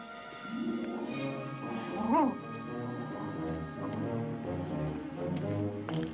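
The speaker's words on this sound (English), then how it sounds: "A cockyard's no place for a dog." A dog in a churchyard whimpers and yips in a rising, pleading run, with short barks mixed among the whines under a faint musical background.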